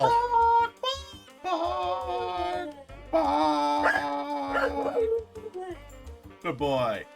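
A dog named Odin barks and yips, mostly masked beneath a busy mix of music and speech, with bursts scattered across the stretch rather than standing alone.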